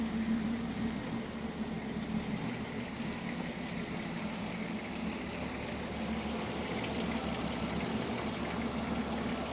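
A 1967 Mustang running a Holley Sniper 1100 EFI system idles steadily, its low engine rumble holding an even, continuous tone throughout with no voices over it.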